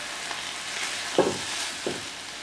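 Collard greens fry in a pan with a continuous soft sizzle, while two brief scrapes or knocks of stirring stand out near the end.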